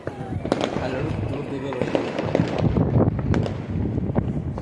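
Rapid, irregular firecracker pops crackle continuously at night, celebrating a cricket win, over a windy, noisy background, some bursts louder and closer than others.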